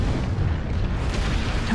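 Heavy mech weapons fire and explosions from MechWarrior Online merge into a loud, continuous, booming rumble with deep low-end weight and no clear breaks.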